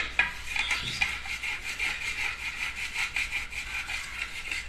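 A boiled potato is rubbed against a grater in a steady run of rhythmic rasping strokes, close and moderately loud, with a faint low hum underneath.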